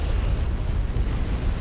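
Quantum torpedo explosions in the space game Star Trek Online, a loud continuous rumbling blast with heavy low-end roar and no pauses.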